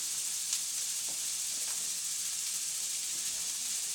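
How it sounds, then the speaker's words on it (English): Red onions sizzling in a pan with olive oil and butter, a steady soft hiss throughout with faint crackles, close and continuous with no talk. "put it in a pan with a little bit of olive oil and butter. And cook those red onions until they get clear."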